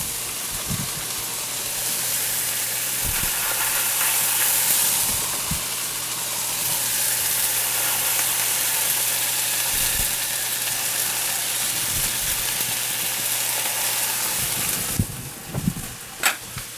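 Onion frying on the griddle with smashed burger patties for Okie burgers, a loud steady hiss and sizzle close up, broken by occasional scraping clicks and taps from a spatula near the end.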